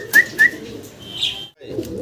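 A pair of racing doves offered for sale gives two short, bright calls close by, followed by a softer, longer coo, with quiet surroundings and no talking.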